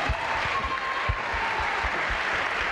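An audience at a college athletics awards ceremony applauds with dense, continuous clapping that fills the room at an even level, with occasional low thumps.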